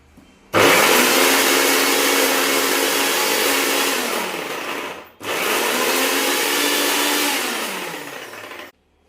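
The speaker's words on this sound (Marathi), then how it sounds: "यामध्ये आता आपण हिरवी मिरची टाकून वाटण करून घेणार आहोत" A kitchen mixer grinder whirs loudly as it grinds green chilies into a masala paste, running in two long steady bursts with a brief stop between them and no talking.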